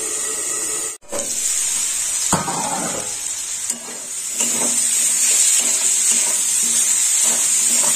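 Neem leaves with a slit green chili fry in hot oil: a bright, hissing sizzle that runs steadily, broken by a few sharp stirring clatters near the pan.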